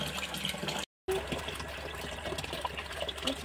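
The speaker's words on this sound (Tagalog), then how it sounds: "Dito ako naglabas sa lababo." Running water splashes steadily into a kitchen sink while baby clothes are washed by hand with Perla bar soap, a continuous close gush with a brief dropout near the start.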